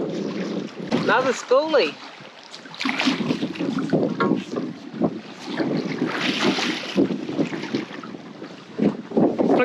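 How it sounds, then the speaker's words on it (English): Wind gusts buffet and whistle across cameras aboard a fishing boat in South Australia, rough broadband roar rising and falling throughout, with a voice speaking briefly early on. "You can hear the wind whistling through the cameras."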